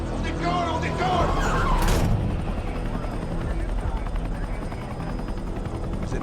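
A helicopter lifting off in the video game Battlefield 6, a loud continuous rotor and engine roar with a rising whoosh early on, while voices speak over it.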